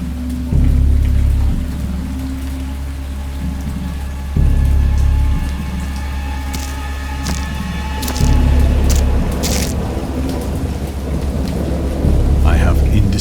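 A thunderstorm in the Dagon video game: heavy rain pouring steadily while deep rumbles of thunder roll in repeatedly, each surge loud and close, with a faint voice now and then underneath.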